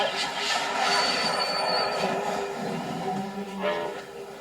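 A Universal Studios Hollywood studio tour tram full of people in 1988 rolls along with a steady mechanical rumble, squealing wheels and metallic whine, close and loud throughout.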